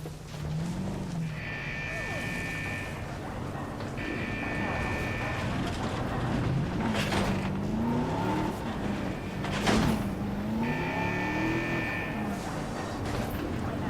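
Engine hum of a car in the video game Jurassic World Evolution, shifting pitch as it accelerates and slows, with repeated electronic chimes and beeps layered over a constant background.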